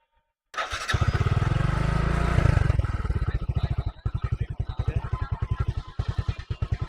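A motorcycle engine cranks and catches, then revs hard and settles into a loud, rapid, throbbing idle with a steady pulse, running on a newly fitted high-amp battery, close up and alone without speech.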